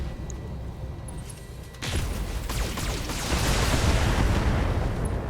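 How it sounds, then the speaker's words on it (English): An ammo explosion in the BattleTech video game, a sudden heavy boom that breaks over a low background rumble and rolls on as a dense, loud, sustained blast with crackling debris. "another ammo explosion"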